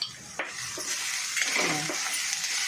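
Drumstick leaf stir-fry being stirred in a pan, soft scraping and light sizzling with a few brief utensil knocks, close and steady with no talk.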